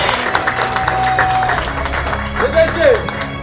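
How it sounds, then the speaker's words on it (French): A crowd applauds at a New Year's greetings ceremony, many hands clapping in a dense steady wash while a voice and a few whistles or tones cut through over it. "Puis vous priez de l'applaudir et l'applaudir encore très fort."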